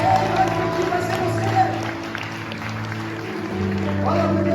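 Church congregation applauding during a worship service, moderate steady clapping from a crowd with a sustained musical tone underneath, fading a little midway before swelling again.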